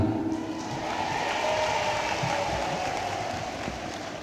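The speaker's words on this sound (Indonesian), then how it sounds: "Tepuk tangan semuanya" A crowd at a cooperative applauds during a visit by Indonesia's Minister of Cooperatives and SMEs, producing a soft, diffuse patter of many hands that runs steadily and fairly quietly, heard from some distance.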